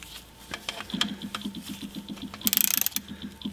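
A ratchet tightens the differential plug on a BMW 525d, a steady run of close metallic clicks with a faster, louder burst of ratcheting near the end, no talking.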